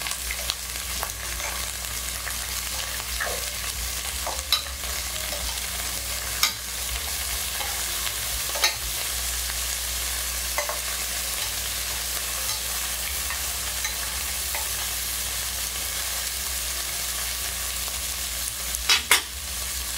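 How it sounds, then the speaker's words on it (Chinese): Three-spot crabs pan-fry over low heat, giving a steady, even sizzle throughout, dotted with occasional sharp spatter pops and light clicks, with no talking. "我们利用煎的方式，哈，带出三点蟹的甲壳香气哦"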